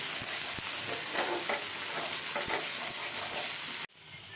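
Spice masala sautéing in a pan for a sesame and moth bean usal: a steady close sizzle with sharp spatula scrapes and taps against the pan, cutting off abruptly near the end.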